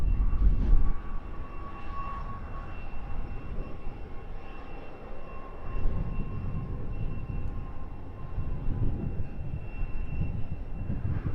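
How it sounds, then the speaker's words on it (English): An EasyJet airliner departing from an airport at sunrise, heard as a steady, distant jet engine roar that swells and fades gently over the whole stretch, with no talking. "Clearing the way for the latest EasyJet departure"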